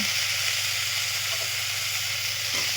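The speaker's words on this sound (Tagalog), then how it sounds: "Ilagay ko na yung broccoli" Broccoli sizzling in a hot pan, a steady loud frying hiss that holds evenly throughout, close up with no voices.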